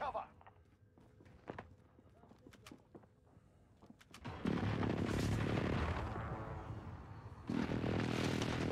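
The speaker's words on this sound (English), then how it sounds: "Enemy precision airstrike." An enemy precision airstrike in Call of Duty Warzone, arriving as a sudden heavy roaring barrage of blasts after quieter footsteps and clicks, then a second surge of explosions near the end, with a voice talking over it.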